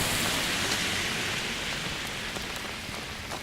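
Steady rain falls outdoors in a dense, continuous hiss of drops hitting surfaces, with no voices.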